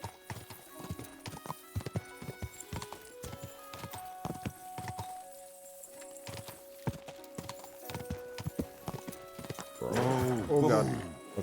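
Horse hooves clip-clopping at a rapid gallop in the medieval open-world game Kingdom Come: Deliverance II, steady and close with a whinny near the end, while background music plays and someone talks.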